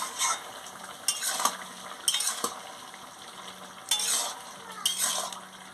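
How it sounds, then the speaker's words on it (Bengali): Pumpkin ghonto with added sugar being stirred in a pan: quiet intermittent scraping and rustling bursts from a spoon with a faint sizzle beneath, close by and unaccompanied by speech. "মিষ্টিটা দিয়ে ভালো করে নাড়িয়ে নিচ্ছি।"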